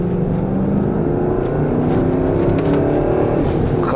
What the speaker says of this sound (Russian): Хороший звук. Вот V8